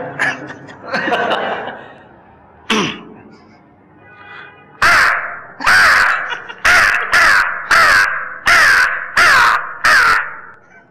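A person imitates a crow's caw, with a few vocal sounds first and then a loud, close run of about eight harsh, evenly spaced caws.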